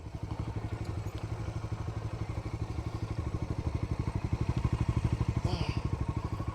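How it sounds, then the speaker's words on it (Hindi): A stick caught in a running motorbike clatters in a fast, even rhythm of loud repeated knocks over the engine, close and continuous throughout. "अरे डंडी अटक गई, डंडी रोको रोको।"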